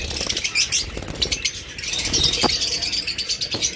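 Seven-month-old caged pet birds flap their wings in repeated quick bursts, mixed with bright chirps and tweets close by, busy and uneven throughout.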